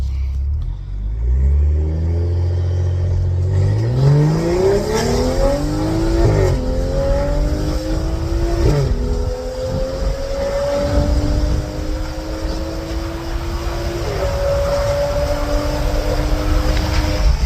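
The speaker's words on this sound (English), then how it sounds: "we're going to do a full throttle pull" A BMW 535i 3.0 turbo engine revs hard under full throttle, its pitch climbing through several gear changes, loud and close throughout with no talking.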